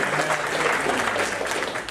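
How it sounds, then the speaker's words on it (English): A job-search workshop audience applauds: a brief, even wash of many hands clapping at once, filling the room without pause. "let's give all these folks a round of applause."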